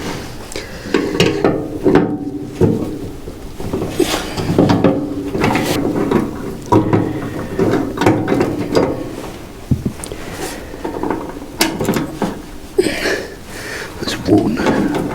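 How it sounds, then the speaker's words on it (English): Ratchet wrench working two small 10mm bolts on the fuel tap of a 1994 Kawasaki GTR 1000 motorcycle, close-up clicking and metallic clatter in repeated bursts, with some handling knocks. "the first thing we need to do is obviously get the tap off. 2 little 10mm bolts."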